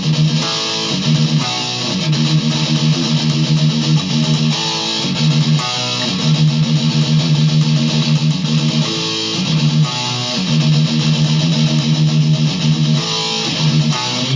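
Heavily distorted electric guitar churns through a riff, fast tremolo picking on the open low string broken by short fretted notes and brief pauses, loud and saturated with a harsh hiss throughout.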